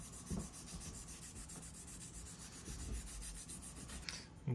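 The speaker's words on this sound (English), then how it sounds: "I'm gonna lightly wet sand" Wet sanding a resin 3D print with 320 grit sandpaper, a soft, steady rubbing scrape repeating in quick strokes, close and fairly quiet.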